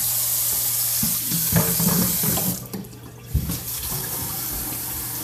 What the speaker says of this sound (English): I'm going to fill it with some warm water.